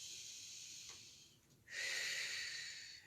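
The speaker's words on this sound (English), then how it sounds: "exhaling on the way down." A person exhales audibly while lowering the shoulders in a shoulder-roll exercise. It is a soft, airy breath-out, followed by a louder, steady rush of breath lasting about a second and a half.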